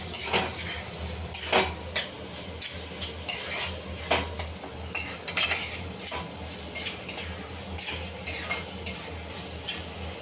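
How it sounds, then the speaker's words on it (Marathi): Tomato-onion gravy for chicken keema being sautéed and stirred in a pan, a utensil scraping and clinking against the metal in a steady repeated rhythm over a soft sizzle. "आता आपण छानपैकी याला परतून वाफेवर ठेवूया, जेणेकरून आपले जे टोमॅटो आहे ते छान मऊ झाले पाहिजे"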